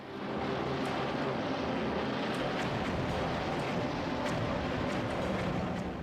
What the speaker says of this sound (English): A new wave of dauntless bombers from the Enterprise and the Hornet launched their bombs from high altitude on the Akagi, the Kaga, and the Soryu